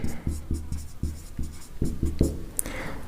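Chalk or marker taps and strokes across a board during a chemistry class lesson, in a quick run of short, regular knocks, fairly loud and close against a quiet room.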